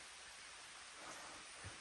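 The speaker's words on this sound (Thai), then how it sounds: "ฝนตกแรงมากเลย" Dense, steady hiss of heavy rain pouring down, faint and constant with no speech.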